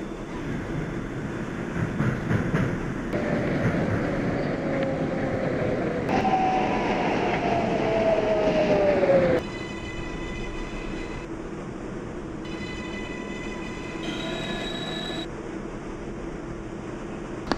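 Manhattan-bound 6 local subway train in New York running on rails, a steady loud rumble with a rising wheel squeal midway, then quieter rolling with tonal chimes as it runs on.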